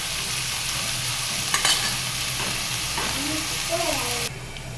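Yardlong beans fry with a steady, close sizzle as they are stirred in a pan, a spatula clacking and scraping now and then; a brief voice is heard near the end before the hiss drops quieter.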